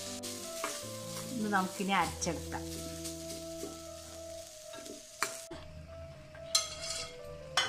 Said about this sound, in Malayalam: ഇതിൻ്റെ കൂടെ ഒന്ന് ഫ്രൈ ആക്കി ശേഷം നമുക്ക് അരയ്ക്കാം.